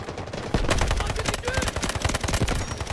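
Rapid automatic gunfire from a mobile first-person shooter, Delta Force: Mobile, rattles in dense continuous bursts, loud and close, with almost no gaps.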